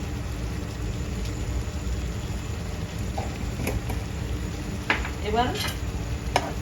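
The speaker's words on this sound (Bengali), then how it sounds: "মাছটা সুন্দর মতো এই ঝোলের মধ্যে কষাতে হবে।" Shrimp sautéing in a Kashmiri-chili-tinted curry gravy for a Chingri Malai Curry, giving a steady low sizzle with stirring scrapes and a few sharp clinks near the end, under a brief spoken word.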